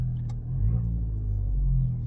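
An Abarth 595 in sport mode idles with a deep, steady rumble after starting, the low engine note close and continuous for two seconds without speech.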